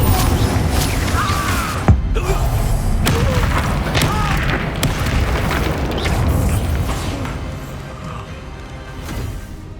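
Confringo spell explosions in the Hogwarts Legacy video game, loud booming blasts layered with crashing combat effects and game noise, continuous and dense throughout, with a voice calling out in places.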